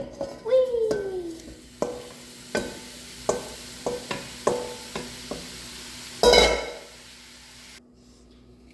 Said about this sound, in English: Next, brown your meat.